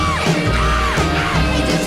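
Girls in a 1960s pop song scream and whoop in loud chorus over a Middle Eastern-flavoured orchestral backing, with rising and falling yelled notes repeating across a couple of seconds.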